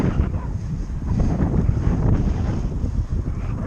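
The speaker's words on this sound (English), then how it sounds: "Wind blowing." Steady wind buffets the microphone outdoors while riding a Raleigh Strada TS2 road bike, a continuous loud rumbling roar with no speech.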